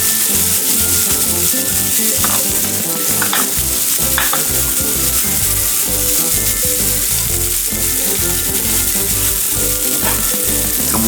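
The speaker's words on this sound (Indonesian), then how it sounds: "Tambahkan bawang putih dan daun bawang yang telah dirajang sebelumnya untuk ditumis sejenak" Chopped garlic and spring onion sauté in a hot wok, a loud, continuous sizzle broken by repeated scraping stirs of a utensil against the pan, with no talk.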